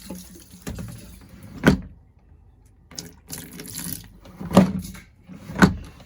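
Antifreeze poured down an RV toilet during winterizing, with several short splashing gurgles and pours at close range separated by quiet gaps.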